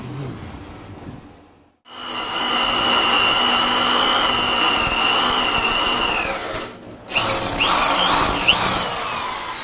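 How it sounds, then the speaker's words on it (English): A power drill fitted with a new drill bit whines steadily at close range while boring into a boat fork part, pausing briefly before running again with a higher, rougher tone. "Much better drill bit."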